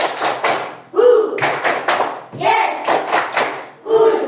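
Classroom of children doing a counted clap pattern, bursts of sharp hand claps in rhythmic groups alternating with a teacher's voice and kids chanting along.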